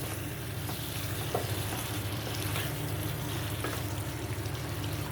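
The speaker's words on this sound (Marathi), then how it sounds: "जरा 2 मिनिटं मी अजून परतून घेते." Chicken liver masala, a dry kaleji masala, sautéing in a pan with a steady, continuous sizzle and faint stirring scrapes close by, no talking.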